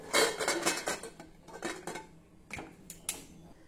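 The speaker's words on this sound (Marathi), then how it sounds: "कुकरचं झाकण बंद करून घेऊ।" Pressure cooker lid handled and closed over a pot of dried pea usal, a quick run of close metallic clanks and scrapes, louder at first then a few sharp clinks, with no talk.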